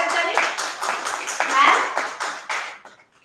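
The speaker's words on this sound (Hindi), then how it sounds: "आप सब उनके तालियों से उनका स्वागत करें।" Audience claps to welcome a guest at a Hindi-language office workshop, a small group with distinct individual claps in a loose rhythm, tapering off near the end.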